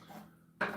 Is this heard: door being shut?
no